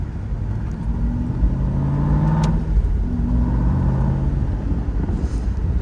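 A 2007 Aston Martin V8 Vantage pulls away under paddle-shifted acceleration, its engine rising in a loud, close rumble, easing briefly mid-pull, then climbing again in a second surge.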